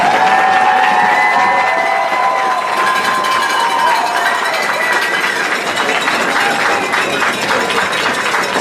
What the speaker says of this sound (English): Please give these amazing student athletes a round of applause.